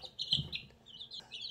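Green-egg Cheonggye chicks peep in a brooder: a run of high, thin chirps, close and fairly steady, with no talking.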